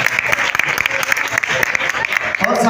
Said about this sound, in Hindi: तालियां यार मारो फटकार